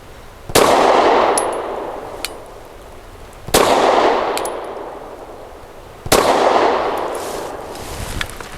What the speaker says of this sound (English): Recoil out of this is so soft, it kind of encourages you to shoot faster.